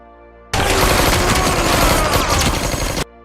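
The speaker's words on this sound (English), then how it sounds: "the bodyguard who was about to run away ran into Juan until finally he managed to shoot Juan to death" Film scene with a bodyguard shooting a man, rendered as a dense, loud burst of rapid gunfire lasting about two and a half seconds, then cutting off abruptly.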